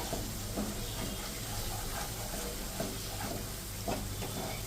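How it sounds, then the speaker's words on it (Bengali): Kashmiri red chili spice paste sautéing in a pan, a steady close sizzle and hiss with soft occasional stirring scrapes throughout, no talk. "এবার মশলাটাকে এটা দিয়ে আরো ভালো করে কষাতে হবে।"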